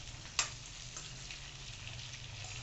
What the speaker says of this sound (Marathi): कैरीच्या फोडी टाकून घेऊ. आता छान आपण परतवून घेऊ.